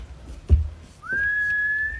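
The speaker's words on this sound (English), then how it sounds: "Only to hear the whistling again, getting closer." A thin, steady whistled tone rises and holds for about a second, eerie and sustained, after a soft thump in a quiet setting.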